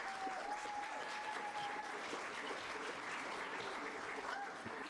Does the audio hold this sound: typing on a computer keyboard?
no